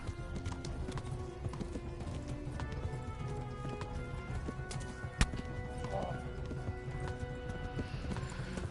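Horse hooves galloping in the PS4 game Kingdom Come: Deliverance, a steady, rapid clip-clop close up with a whinny and other game sounds mixed in.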